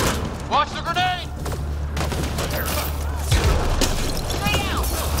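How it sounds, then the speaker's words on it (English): Combat in Mass Effect Andromeda, with a grenade blast and bursts of gunfire, loud and close, over a steady low rumble, while voices shout during the fight. "Watch the grenade!"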